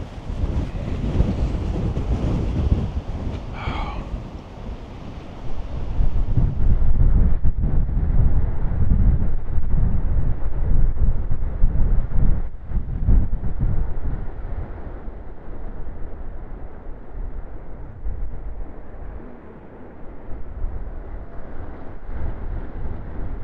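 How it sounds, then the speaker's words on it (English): Heavy wind buffets the microphone in loud, rumbling gusts that surge and ease throughout, with a roar of moving air and no voices, near the Baltimore Key Bridge wreckage. "It's like so windy. It's like rocking me all over the place."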